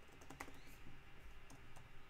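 Quiet typing on a larger computer keyboard, a few scattered key clicks over a low background murmur.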